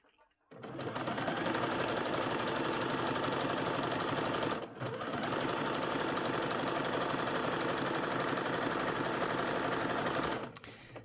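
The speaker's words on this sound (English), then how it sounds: "all you're going to do is stretch stitch down the edges" A sewing machine stretch-stitching down the edges of an underskirt, running as one loud continuous mechanical whir for about ten seconds with a brief pause near the middle, close up and heard alone.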